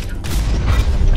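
A weapon detonates in the mech combat game Hawken, a single deep, rumbling boom that stays heavy and sustained through a short burst.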